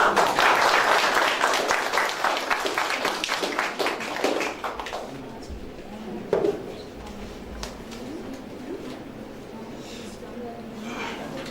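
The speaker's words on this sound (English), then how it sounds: "You can give a round of applause to yourself." A conference audience breaks into a round of applause at a quality-circle hub convention, dense clapping loud at first then thinning and fading, with scattered talk over the tail.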